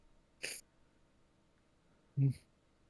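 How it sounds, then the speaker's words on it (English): Two short sneezes from a cat, quiet and close, spaced about two seconds apart against near silence. "You're gonna walk in front of me and then sneeze in my face?"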